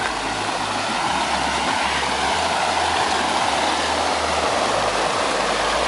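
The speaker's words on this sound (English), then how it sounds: "It has water just pouring out of it right here." Water pours in a steady, loud, continuous rush out of an old coal drift mine along a former railroad branch, a dense unbroken splashing flow with no voices over it.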